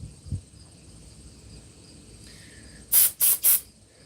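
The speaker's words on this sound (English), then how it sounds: "Just spraying the pilot jet out right now." Three quick, loud bursts of aerosol carburetor cleaner hiss close by, sprayed through the pilot jet of a 2005 Honda Foreman 500 carburetor, after a quiet stretch of faint background noise.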